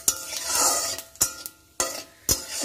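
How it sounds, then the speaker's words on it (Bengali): Panch phoron spices crackle in hot oil in a pan as a spoon stirs them, with a soft steady sizzle broken by four sharp metallic scrapes and clinks. "একটু নাড়াচাড়া করে নিলাম।"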